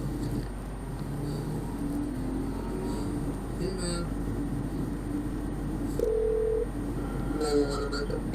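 A phone keypad dialing 911 from inside a car being followed on the road, a short run of electronic beeps rising above steady engine and road rumble.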